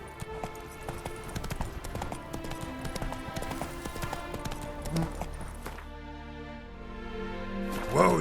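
Roach, the horse in The Witcher 3, trots in an even clip-clop of hooves heard close, with game music and ambience beneath, and a brief vocal sound near the end.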